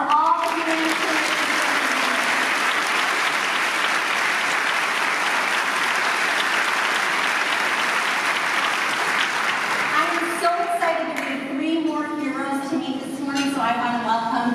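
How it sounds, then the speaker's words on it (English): A crowd at a Red Cross heroes breakfast gives a long, steady round of applause that fills the room for about ten seconds before a voice begins speaking over the tail of the clapping. "Can we get another round of applause for all the humanitarians?"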